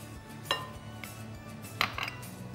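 Clinks and taps of a utensil against a mixing bowl as flour and baking powder are added for savory muffins, with two or three brief knocks standing out over a quiet kitchen background.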